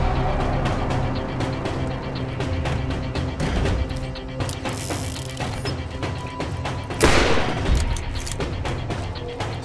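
Rapid gunfire from a Tediore gun in Borderlands, a dense run of sharp, loud shots over a steady game backdrop, with a brighter burst near the end.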